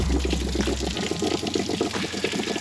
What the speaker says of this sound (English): You want to flip this pressure relief valve open, and it's going to let air through, and it's going to come gushing out.